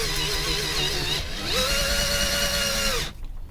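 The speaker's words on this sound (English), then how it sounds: "And try to drill as straight as you possibly can." A power drill whines steadily, dips briefly, then spins up again at a higher pitch before stopping abruptly; loud and close.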